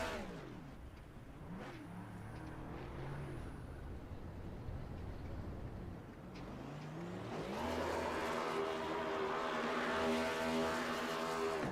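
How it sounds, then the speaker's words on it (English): Number 3 Chevy Camaro race car doing a burnout at a Kansas track, its engine revving hard and sustained with rising, layered harmonics that swell louder in the second half, close and continuous without speech. "I don't think the engine in this number 3 Rat Pack Racing Chevy Camaro is going to survive"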